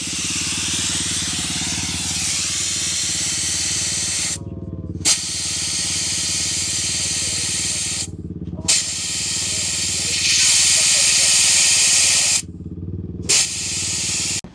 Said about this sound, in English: we're going to take the air out of this tire